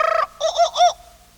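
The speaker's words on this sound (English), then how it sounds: "You will know it is time to turn the page when you hear the jungle bird call" A short, bright synthetic-sounding jungle bird call marks a page turn on a Jungle Book story cassette: a trilling opening burst followed by three quick warbling notes, clear and alone in silence.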